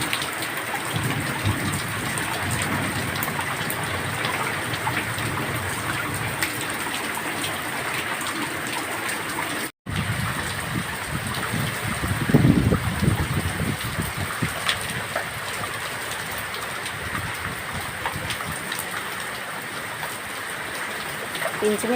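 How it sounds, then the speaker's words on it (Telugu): Heavy rain pours steadily with gusting wind in a dense, unbroken roar throughout, loud and close, with no break except one brief dropout. "ఇంచుమించు 1 hour అయిపోయింది ఇప్పటికీ వర్షం స్టార్ట్ అయ్యి, ఇంకా కురుస్తూనే ఉంది."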